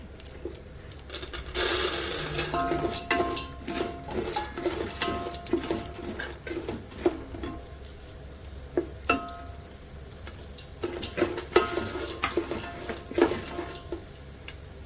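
Roasted gram dal fries in a pan for a poha chivda snack, giving a steady light sizzle broken by frequent small clicks and rattles as the lentils are stirred and shift against the pan.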